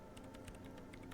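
Quick, faint clicking of computer keyboard keys in Disco Elysium, an irregular run of soft taps over a steady low hum.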